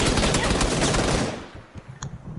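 Dense automatic gunfire from a PUBG match on PS4 roars for over a second, then breaks off into scattered quieter shots and thuds, with no talking.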